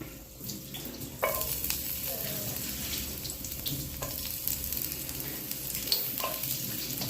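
Garlic sizzles in a little hot oil in a heated pan, a steady frying hiss with a few clinks of a utensil stirring, fairly close and continuous.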